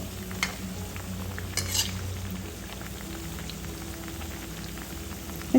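Shankar paale, a sweet dough snack, frying in hot oil, giving a steady soft sizzle throughout with a couple of brief scraping stirs near the start.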